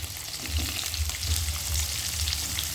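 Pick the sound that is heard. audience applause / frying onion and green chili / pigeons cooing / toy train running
frying onion and green chili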